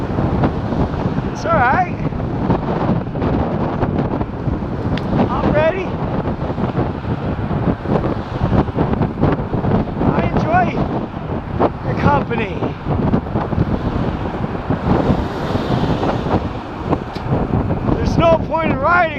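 Strong wind roars into the microphone without a break for the whole stretch, loud and buffeting, while someone shouts and talks over it.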